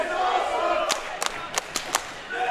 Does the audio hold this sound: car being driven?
no